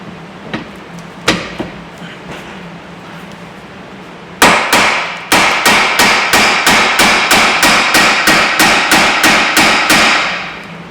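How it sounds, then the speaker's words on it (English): A hammer taps a new ball joint into the front hub of a Mercedes Vito, with a few scattered knocks followed by a steady run of about fifteen loud, evenly spaced metallic strikes, close up and without talk. "you're going to give it a bit of a tap and bring that right"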